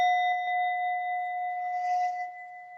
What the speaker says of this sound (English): now I'm going to ring the bell 3 times